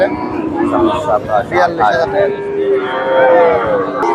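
Cattle moo loudly at a busy Bangladeshi cattle market, a drawn-out bellow rising close by amid crowd babble and people talking.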